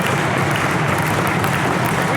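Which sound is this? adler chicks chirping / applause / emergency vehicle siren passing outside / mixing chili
applause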